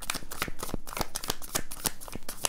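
Tarot cards are shuffled by hand in quick, crisp riffling bursts of papery flicks, close and fairly loud with no talking.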